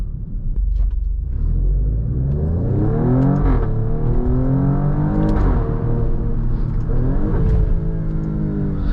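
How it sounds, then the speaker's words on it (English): A 2023 Alfa Romeo Stelvio Quadrifoglio SUV revs its exhaust repeatedly: loud, rumbling engine sweeps rising and falling several times, close by with no talk. "Oh, it sounds so good. You could play with this exhaust all day long."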